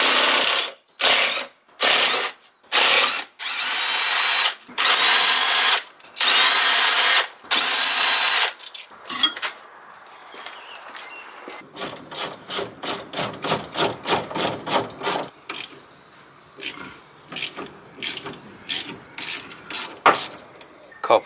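Bursts of a power tool spinning wheel bolts off a car, then a rapid ratchet clicking in long runs, while removing wheels and coilovers in a garage; loud, close and alone.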